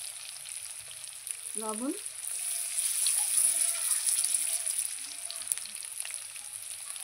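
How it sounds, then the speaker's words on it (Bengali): Potatoes fry in hot oil in a pan with a steady, close sizzle that runs throughout, while a voice says a single word over it. "আলুগুলো আমি লাল লাল করে ভেজে নেব"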